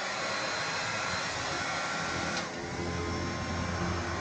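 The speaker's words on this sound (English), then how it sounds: "And then I've got a little heat shrink gun." A small heat shrink gun set on high blows hot air in a steady, loud, broadband whoosh, continuous and close, with no talk over it.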